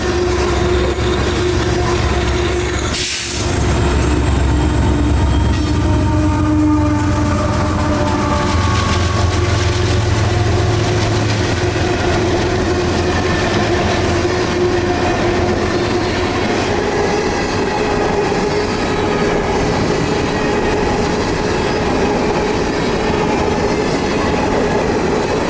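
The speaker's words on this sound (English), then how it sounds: "the mid-train DPUs roll past us at South End Lakuchi" A long freight unit train with mid-train DPU locomotives rolls steadily past at close range on the S-Line, a continuous loud rumble with rail clatter and a faint squeal, one sharp bang early on.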